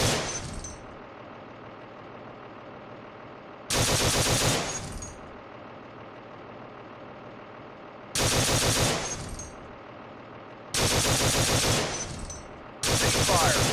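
A tank machine gun fires in the Steel Beasts Pro PE video game, in a Russian invasion scenario in northeast Ukraine. Four loud, rattling bursts of about a second each are separated by pauses filled with a low engine drone.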